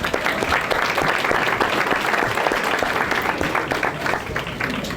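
Sustained applause from a crowd at a formal ball celebrating newly elected city council members in Chester, with dense, steady clapping throughout, loud and close, and a faint murmur of voices underneath.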